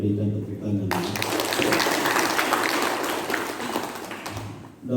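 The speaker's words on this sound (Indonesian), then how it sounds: "Mari kita berikan tepuk tangan." An audience at a pig-farming outreach session bursts into steady, dense clapping right after a short spoken phrase, sustained loudly for several seconds before tapering slightly at the end.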